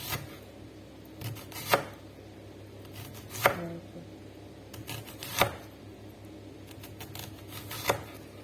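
A knife slices onions on a cutting board, giving five or six crisp, separate chops spaced a second or two apart, close and fairly quiet against a faint room hum.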